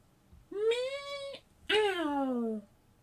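A man imitates a cat with his voice, giving two drawn-out meows, each rising then falling, close and clear with a short pause between them.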